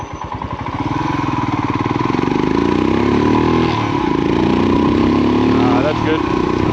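A motorbike engine accelerates hard in first gear, up close, with its pitch climbing through the revs. A short lull follows, then the engine picks up again. The note is loud and buzzing from start to end.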